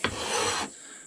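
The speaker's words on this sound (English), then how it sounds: "Let's scrape this stuff here off." A single short rasping scrape as sawdust is scraped off a freshly milled board from a sawmill, lasting about half a second, close and fairly loud, then a quiet hiss.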